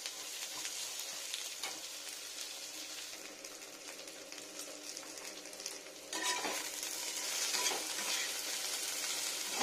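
Large-cut onions fry in a pan for an egg, aubergine, potato and tomato curry, a steady close sizzle with occasional stirring scrapes, growing slightly louder toward the end, no voices.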